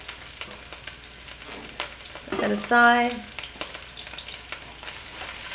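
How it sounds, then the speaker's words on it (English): Napa cabbage stir-frying in hot oil in a pan, a soft steady sizzle with stirring scrapes and a brief louder hiss as food goes in; a voice speaks briefly near the start. "the oil is gonna get hot very quickly. And you can just hear it sizzling already."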